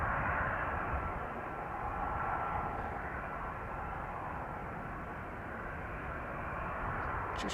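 A Coast Guard Dash 8 turboprop taking off from runway 04 at Amsterdam Schiphol, heard as a faint, distant, steady engine roar that holds evenly throughout with no talk.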